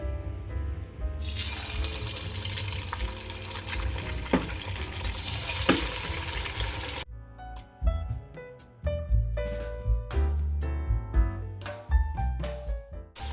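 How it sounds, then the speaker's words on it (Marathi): Sabudana bhaji for fasting frying in hot ghee in a kadai over a medium flame, a steady crackling sizzle broken by clattering stirs and spoon knocks on the pan, close and fairly loud with no talk. "आता आपण कढईमध्ये भजे सोडूया, जेवढे कढईत बसतील तेवढे भजे सोडायचे"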